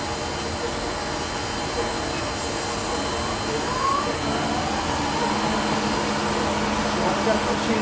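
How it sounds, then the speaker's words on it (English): A shop dust collector runs for a Shopsmith planer fitted with a helical cutterhead, giving a steady, loud broadband whoosh with a low hum that holds constant throughout, with no talk over it. "That's the dust collection, you're hearing that."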